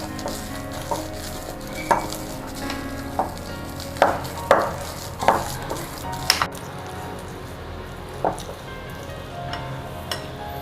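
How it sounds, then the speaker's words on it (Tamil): Banana pancake batter made with wheat flour, mixed with a spatula in a bowl: soft wet scraping and occasional taps against the bowl, close and moderately loud, without speech. "இப்போ இதை நம்ம நல்லா இந்த ஸ்பேச்சுலா வச்சு மிக்ஸ் பண்ணிக்கோங்க."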